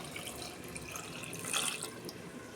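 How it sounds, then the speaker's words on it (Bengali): A mug of water is poured into a pressure cooker holding washed lentils, giving a soft, continuous splashing trickle close by with a brief swell midway. "এই যে আমি এইটার 1 মগ জল দিচ্ছি।"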